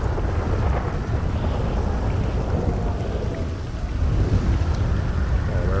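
Thunderstorm in GTA 5 with steady heavy rain and a low rumbling of thunder filling the scene, a constant dense wash of falling water with wind buffeting throughout, no voices.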